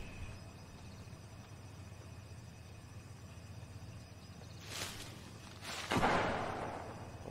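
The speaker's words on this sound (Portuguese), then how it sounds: "Ouço tiros." Distant gunfire in Fortnite: a couple of faint shots, then a louder burst a moment later, over a quiet background hum.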